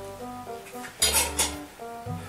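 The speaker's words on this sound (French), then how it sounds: "je pose ma casserole comme ça" A small metal saucepan clanks down onto a surface, two close metallic knocks over a faint low hum.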